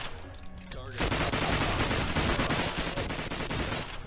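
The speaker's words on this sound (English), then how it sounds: "stop shooting at me!" Dense, continuous gunfire in the video game Wasted, a rapid stream of shots aimed at the player that fills the clip loudly after a brief quieter lead-in.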